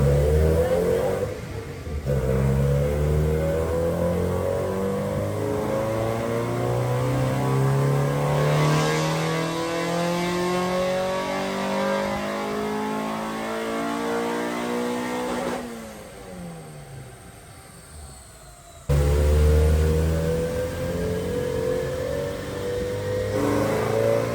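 A Honda D15B SOHC VTEC engine with a Crower cam revs on a dyno in long pulls, its tone climbing steadily to a loud high-rpm wail before dropping off, then starting another rising pull.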